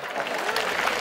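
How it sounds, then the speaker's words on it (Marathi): Clapping from the audience at a Home Minister style Paithani game show event in Bhadgaon, Jalgaon, a steady, dense patter of many hands filling the room without a break. "पटला असेल तर टाळ्या वाजवा."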